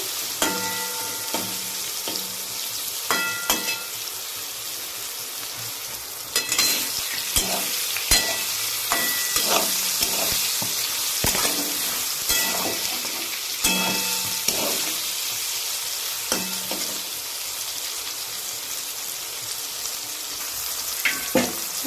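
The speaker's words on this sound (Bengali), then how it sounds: "মাংসে একদম সুন্দর সেদ্ধ হয়ে গেছে আমি একটু লাল করেই ভেজে নেবো এটাকে" Boiled meat being browned and stirred in a pan, with a continuous close sizzle of frying and repeated scraping strokes of a spoon. There is no talking.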